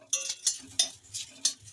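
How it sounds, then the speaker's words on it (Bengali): Neem leaves are stir-fried in a pan with a spatula. It makes quiet, evenly spaced scraping strokes, about five in under two seconds, with soft sizzling between them. "নিম পাতাটা দিয়ে একটু ভাজা ভাজা করে নেবো"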